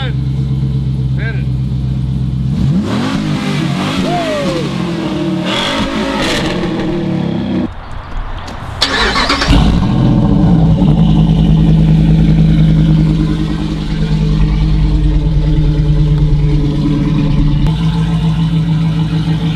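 A Ram 1500 Hemi V8 fitted with a Comp cam and headers runs loud with a lumpy idle and swells into revs midway, while people talk over it throughout.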